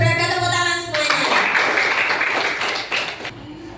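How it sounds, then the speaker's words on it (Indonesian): Schoolchildren in a classroom clap together, a dense, fairly close burst of hand claps with voices mixed in that dies down toward the end. "tepuk tangan semuanya"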